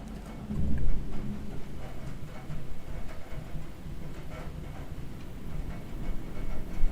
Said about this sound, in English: How was that one audible? That thunder?